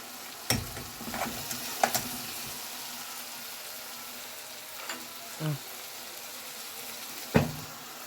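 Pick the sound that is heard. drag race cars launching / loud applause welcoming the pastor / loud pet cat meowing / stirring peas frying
stirring peas frying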